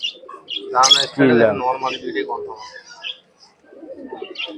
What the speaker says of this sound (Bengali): এক জোড়া রানিং কবুতর চোখ রক্তের মতন লাল পাঁচ হাজার টাকা দাম